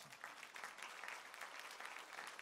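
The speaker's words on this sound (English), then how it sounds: "Give them a big round of applause." A church congregation applauds the fathers standing during a Sunday morning service, with steady dense clapping all the way through, fairly faint and distant and without any talking over it.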